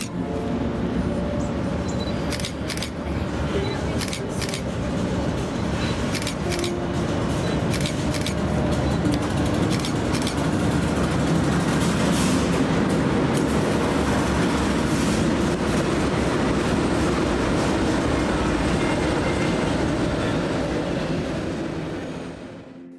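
A long intermodal freight train rumbles steadily past at close range in the Kansas City area for the whole stretch, with rolling wheel noise and intermittent clacking and squeals, fading only at the very end.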